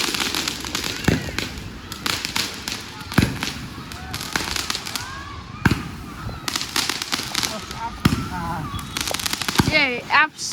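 Big fireworks go off in a dense series of sharp bangs and crackling pops at varying distances, some loud and close, continuing steadily under voices talking throughout.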